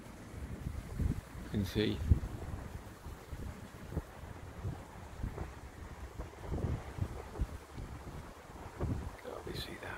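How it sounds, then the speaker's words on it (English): Gusty wind blows outdoors at an off-grid cabin, rumbling and buffeting the microphone in uneven surges across the whole stretch, with a brief spoken word near the start. "the wind is picking up now"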